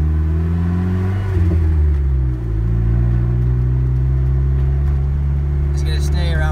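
Turbocharged 2.4L Jeep Wrangler TJ with a manual gearbox driving under boost, its engine droning steadily from inside the cab with a brief dip and gear change partway through, a low continuous rumble throughout.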